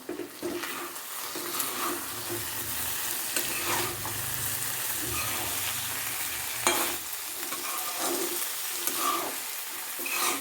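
Chicken roast with tomato cooks in a covered pan, giving a continuous moderate sizzle and bubbling that holds steady throughout with no one speaking.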